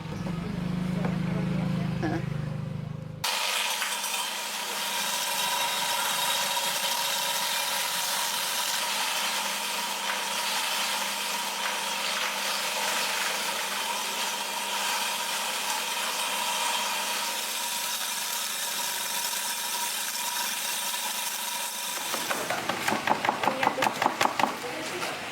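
A motor-driven shredder chops organic garden waste such as whole leaves. A loud, dense churning roar starts abruptly after a brief lower hum and runs steadily for about twenty seconds, then ends with a few rapid rattling bursts.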